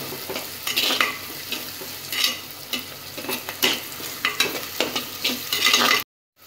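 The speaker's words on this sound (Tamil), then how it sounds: "பூண்டு பல் வந்து ஒரு ஆறு வந்து இது மாதிரி கட் பண்ணி வச்சுருக்கோம் அதை நம்ம போட்டுடலாம் இதை வந்து நல்லா மிக்ஸ் பண்ணிப்போம்" Garlic cloves and onions fry in a pan while being stirred for a Tamil dried-fish curry, a loud close sizzle with repeated scraping spoon strokes throughout before a sudden cutoff.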